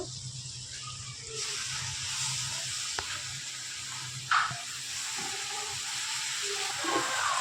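Washed drumstick leaves go into a pan of frying onions, and a quiet sizzle swells into a fuller hiss, with an occasional knock or scrape of stirring and no one speaking.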